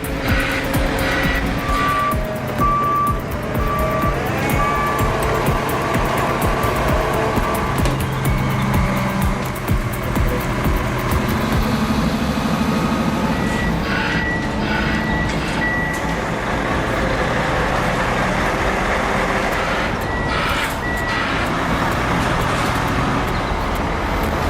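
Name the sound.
heavy special transport trucks driving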